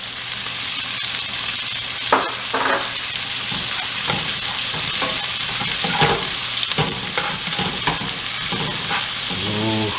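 Chopped onion frying in butter with rendering bacon for gravy, a steady close sizzle under repeated stirring and utensil scrapes, with no talking.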